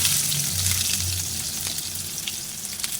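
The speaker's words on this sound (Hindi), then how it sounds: "मैंने 1/3 कप लिया है, इसमें मैं अपनी प्याज शामिल कर दूँगी।" Onions fry in about a third of a cup of hot oil for green chilli keema, a dense, even sizzle heard up close with small spatters and faint stirring, no speech.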